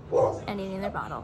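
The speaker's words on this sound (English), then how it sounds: "If you hear a dog, she's currently on my balcony." A dog on a balcony gives a short bark or yip, partly under a nearby voice talking.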